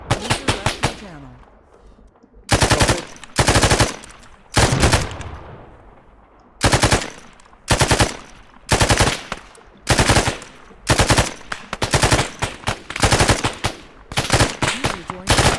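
Loud bursts of automatic gunfire and rifle shots from a military shooter video game set in Operation Desert Storm, 1991, repeating in rapid clusters every second or so, with short gaps between volleys and no voices.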